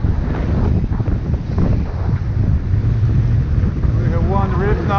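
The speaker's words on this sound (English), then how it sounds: "very windy." Strong wind buffets the microphone aboard a Lagoon 50 sailing catamaran at sea with a reefed mainsail, a loud continuous roar with rushing water beneath and a brief voice near the end.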